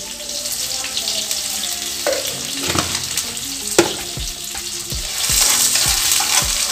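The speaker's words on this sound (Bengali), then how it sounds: "এর মধ্যে প্রথমেই আমি চিনি দিয়ে দিচ্ছি।" Sugar dropped into hot oil in a pan, giving a loud, steady sizzle with scattered sharp pops and crackles that swell near the end.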